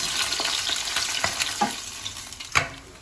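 Kalbaush fish pieces sizzle and crackle steadily in hot oil, with several sharp clinks and scrapes of a utensil against the pan over the constant frying.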